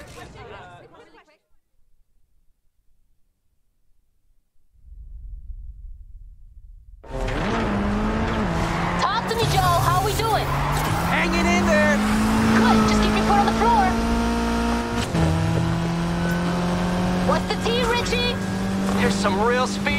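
Race cars roar at speed in Need for Speed Heat during a free race, engines droning loud and steady with rising revs and tire noise after a quiet start, under lively talk.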